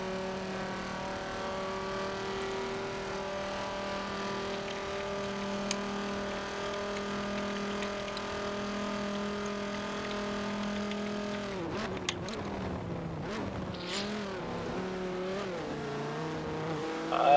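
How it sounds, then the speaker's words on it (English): Koenigsegg R race car engine in a Le Mans racing video game, heard on board as a steady high-pitched drone held for about eleven seconds, then dropping and wavering through gear changes and braking. "Riding on board with Koenigsegg R in SVR Orange."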